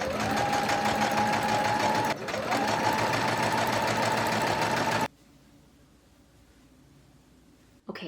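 Sewing machine stitching a basting seam to join a dress bodice to its skirt, a loud steady mechanical whir with a brief pause, then stopping abruptly to near silence.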